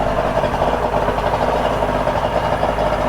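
Boat engine idling in neutral after being taken out of storage, a steady low rumble holding even and continuous throughout, close and moderately loud with no talk over it.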